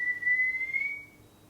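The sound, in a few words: whistling in a movie scene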